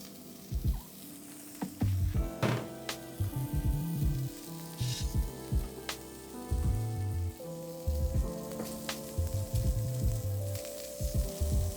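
Carbonara meat renders its fat in a hot pan with a steady close sizzle and crackle, broken by frequent knocks and scrapes as the pieces are stirred and shifted against the pan.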